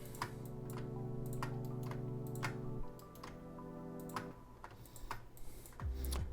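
Sharp, close clicks of a keyboard shift key and computer mouse while selecting objects, spaced irregularly over a steady low electrical hum, with no talking.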